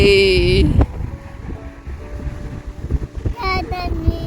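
Strong, cold wind blows across a children's playground, buffeting the microphone with low, gusty rumbles. A child's and an adult's voices come through intermittently.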